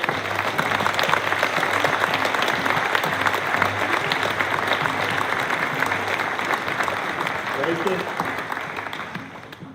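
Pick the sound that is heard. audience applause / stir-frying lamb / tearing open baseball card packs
audience applause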